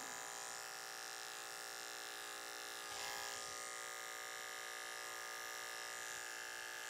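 Electric hair clippers fitted with a 1.5 blade, cutting curly hair clipper over comb during a high fade, a steady close, bright motor hum with a brief change in tone midway.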